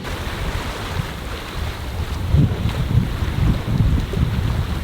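Strong southerly wind buffets the microphone aboard a sailboat under way, a steady loud roar with gusty surges and water rushing along the hull.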